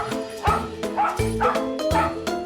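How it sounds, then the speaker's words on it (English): A small dog barks sharply and repeatedly, high-pitched yips coming in quick bursts close to the microphone, with a few whiny notes between. "Typical jackapoo sound, that. It just goes right through you."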